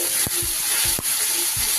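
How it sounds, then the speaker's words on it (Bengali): Onion paste fries in a pan over low gas while preparing Bengali-style doi katla. A soft, even sizzle runs underneath about four rhythmic scraping strokes of a spatula, all close and unaccompanied. "5-7 মিনিট ধরে একটু ভালো করে পেঁয়াজটাকে আমি ভেজে নেব।"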